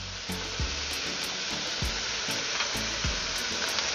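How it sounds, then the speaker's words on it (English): Vegetables and hot pepper sautéing in a pan for Jamaican ackee and saltfish, a steady close sizzle with occasional soft stirring scrapes and no speech. "we're gonna saute all this up for about, you know, 3-4 minutes"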